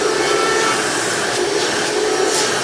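A Hoover Widepath Soft Guard upright vacuum cleaner with a high-performance motor runs at a steady, loud, close whine, with an even hiss and no breaks or talk.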